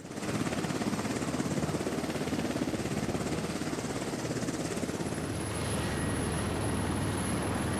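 Presidential helicopter flying, a steady, dense rotor and engine roar with a continuous pulsing chop, fairly distant and unbroken throughout.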